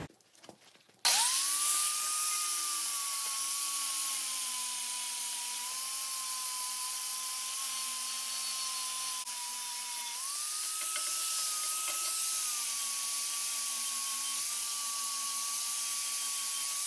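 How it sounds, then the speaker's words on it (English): An angle grinder whines steadily while grinding a weld off a metal part for an old gristmill, a loud, sustained high-pitched tone that dips briefly and rises again, close and alone. "grind this weld off to where it's not so rough"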